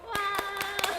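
A handful of sharp, separate claps ring out at a bank recruitment fair talk show, about four quick hits within a second over a steady tonal background and murmuring voice.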